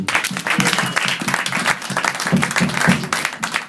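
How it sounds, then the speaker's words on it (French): Church congregation applauding to acclaim the Lord, dense continuous clapping from many hands, close and lively, with a rhythmic pulse and scattered voices within. "nous allons acclamer le Seigneur"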